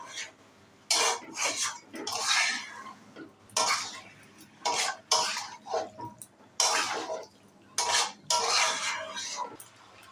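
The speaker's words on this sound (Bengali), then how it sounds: "সব মশলা দিয়ে আমি খুব ভালো করে কষাতে থাকবো" Meat being stirred and braised with spices in a pan, with cumin powder and a little coriander powder, giving repeated bursts of scraping and clinking from a spoon against the pan in an uneven rhythm, close and fairly loud.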